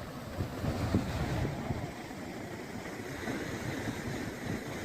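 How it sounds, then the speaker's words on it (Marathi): Continuous heavy roar of the flooded Kanhan River rushing at Mouda, with gusty rumbling, steady and loud throughout, with no voices. "जोरात पाणी वाहत आहे"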